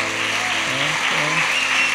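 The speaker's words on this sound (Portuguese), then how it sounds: "Vamos dar uma salva de palmas para Jesus." A church congregation applauding during an evening prophetic service: steady, loud clapping throughout, with a voice or music tones faintly woven in underneath.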